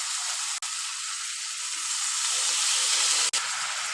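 Water poured into a hot pan of fried potatoes and spices for a fish curry, bursting into a loud, steady steam hiss and sizzle, broken by two brief cuts.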